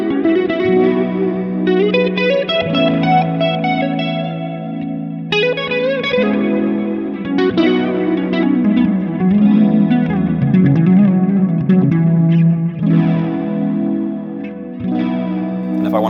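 Electric guitar run through a Hotone Ampero Mini multi-effects unit, played over a looped chord backing, with chorus, distortion and light echo on the lead. Steady and loud, sustained lines layered above the repeating chords, and no talking.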